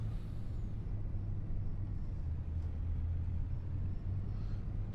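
A truck drives in the farming video game Farming Simulator 25, its engine a steady low rumbling drone with a constant hum, heard alone and without talk throughout.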